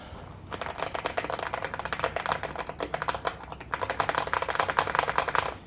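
Fast, continuous typing on a Razer Huntsman V2 Analog keyboard, keys bottoming out in loud, sharp clacks, with one brief pause midway.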